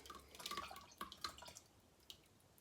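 Sweet potato wine pulp draining through, giving scattered close drips and small liquid splashes in an irregular patter, faint and with no talking.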